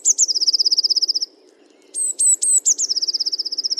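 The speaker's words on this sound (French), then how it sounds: "c'est une petite mésange bleue qui pousse un cri d'énervement" A small blue tit gives irritated alarm calls: loud, close, rapid rattling churrs broken by a short pause and a few sharp scolding notes, with no voices.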